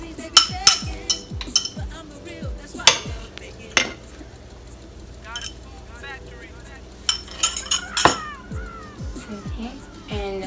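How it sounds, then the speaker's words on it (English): A utensil clinks and scrapes against a dish or bowl while eggs are mixed with salt and pepper, giving irregular sharp taps and stirring scrapes, close and moderately loud. "I put some salt and pepper in eggs, and I mix it, like mix it real good"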